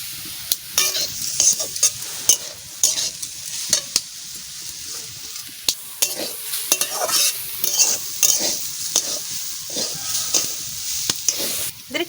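Grated coconut paste being fried and stirred in a pan for a beetroot patishapta filling, a steady close sizzle broken by repeated scraping strokes of a spoon against the pan, with no talking.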